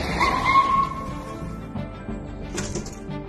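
A car skids with a brief tire squeal as it pulls over and stops during a chase by a bus, followed by engine rumble and faint road noise.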